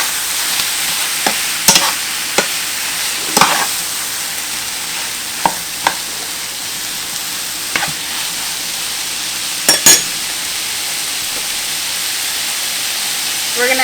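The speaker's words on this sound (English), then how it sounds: "we're just going to add our ground beef or ground sausage, whatever you're using." Ground beef frying in a pan while a utensil breaks it apart, giving a soft continuous sizzle with sharp scraping clacks at irregular intervals, no talking.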